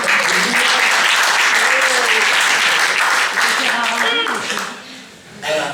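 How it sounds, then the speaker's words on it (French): An audience at an association's annual general meeting applauds loudly and steadily for about five seconds, with voices and cheers mixed into the clapping, then the applause fades briefly before a final swell. "vous pouvez vous applaudir"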